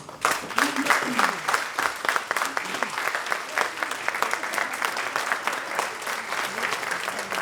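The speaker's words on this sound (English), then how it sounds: "Please stand for a round of applause." Audience at a World Elder Abuse Awareness Day event clapping in a standing round of applause, steady and fairly close, with a few voices mixed into the crowd.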